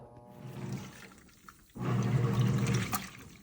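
A Krib Bling full-automatic compact washing machine with drain pump, 17.7 lb capacity, set to quick wash, hums quietly before a sudden, loud, steady rush of water starts filling the drum midway and keeps going.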